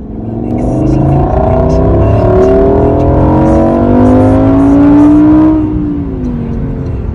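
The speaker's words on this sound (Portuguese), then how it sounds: "Dá uma olhada na reação dessa família atrás do carro ao barulho da aceleração do motor." A Lamborghini engine accelerates hard on a smooth Dubai avenue, its rising harmonic roar sweeping upward for several seconds, loud and close, then easing off toward the end.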